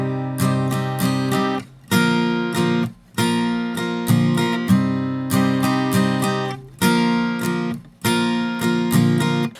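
An acoustic guitar strums a four-chord progression in a two-bar intro rhythm, with bright chords in regular bursts separated by short, crisp pauses, loud and close with no talking.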